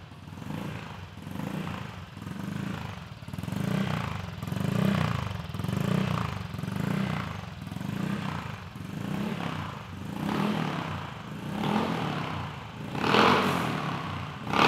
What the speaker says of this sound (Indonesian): kita mengkonsep knalpot ini agar suara tidak terlalu bising